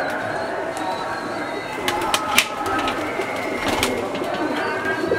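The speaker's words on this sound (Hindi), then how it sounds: "वही जी सलारे टैडी कबूतर है।" Salare Teddy pigeons coo softly in a loft in Wassanpura, Lahore, their low calls mixed with bright sharp clicks and fluttering, while someone talks nearby.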